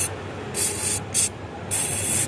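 Short hissing bursts of an aerosol cleaner sprayed on a car throttle body, four in quick succession with brief gaps between, close and fairly loud.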